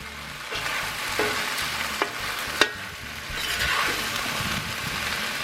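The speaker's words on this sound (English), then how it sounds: "So let me get them stir fried up." Mushrooms and vegetables stir-fry in a hot pan, a steady close sizzle with scraping stirs and a few sharp clicks of the utensil against the pan.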